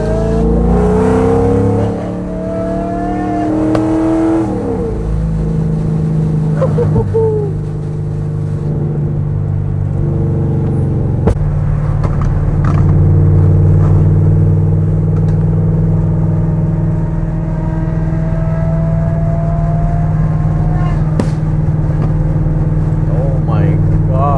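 A Lamborghini Aventador SVJ drives at night, its engine a loud, steady drone with a brief rise in revs near the start, and people talk over it inside the car.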